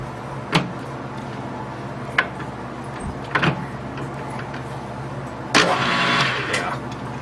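A small home-built lathe runs at 600 RPM with a steady low motor hum, broken by a few sharp clunks and knocks; there is no talk.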